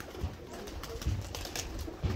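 A young roller pigeon gives low, soft coos close by, in a few short bursts over light outdoor background noise.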